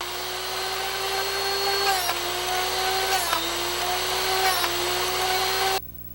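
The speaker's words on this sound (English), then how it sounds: "Then you sharpen the bit." A steady high-pitched grinding whine of a Drill Doctor drill bit sharpener, with its pitch dipping briefly a few times as the bit is turned, then cutting off abruptly.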